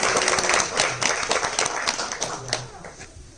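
An audience at a dance club show claps for graduates, a short burst of brisk, overlapping handclaps heard fairly close.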